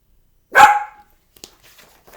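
A single loud, close dog bark rings out, followed by a few faint scattered sounds and near silence.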